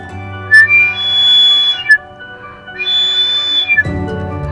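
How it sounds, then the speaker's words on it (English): A person whistles indoors: two long, wavering high tones with brief sharp chirps at their edges, close and fairly loud, with a low hum underneath and no talking. "Sorry about the whistle."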